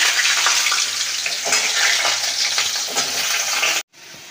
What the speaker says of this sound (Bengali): একদিকে সবজিগুলোকে সব ভালো করে ভেজে নিচ্ছি